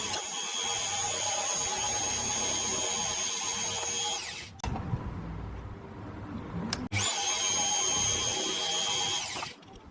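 A power drill whines loudly at high speed drilling holes in a shopmade lathe travel steady, in two long runs separated by a short pause filled with handling clatter and low rumbling.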